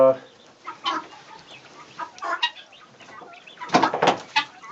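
Chickens cluck in short bursts close by in a coop, with a few louder squawks toward the end, mixed with quiet background human voices.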